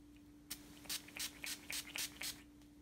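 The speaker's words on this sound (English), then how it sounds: "So I'm gonna spray it on my forehead," A face mist bottle is pumped onto the forehead over makeup, giving about seven short, quiet, close hissing spritzes in a fairly steady rhythm, with no talking.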